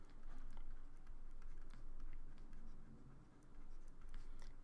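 Pen or stylus writing steadily, quiet scratchy strokes and light ticks repeating in a continuous rhythm, close but faint with no talk.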